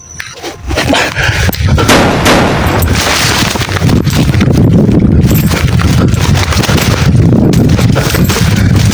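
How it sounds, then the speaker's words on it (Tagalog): Gunfire in a video game, a dense sustained barrage of loud shots and booms layered over clattering game noise, continuous for the whole stretch with no speech. "May putok."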